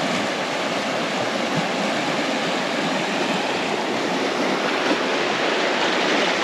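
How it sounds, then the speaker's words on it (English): Fast-flowing river stream in the Cairngorms, a constant loud broadband rush of water with no pauses, heard close and alone without talk. "Cool, that's a fast flowing river"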